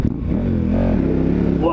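A dual sport motorcycle on Mitas E07+ adventure tires pulls off the road into dirt, its engine droning close and loud with a steady, slightly rising rumble.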